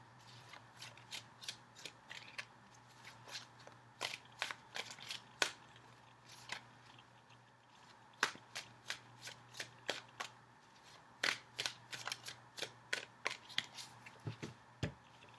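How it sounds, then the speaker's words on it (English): Tarot cards being shuffled and cut by hand, a quiet, close series of crisp riffling snaps and soft slaps in irregular bursts against a faint background hum. "Just a few more seconds and I will cut the cards."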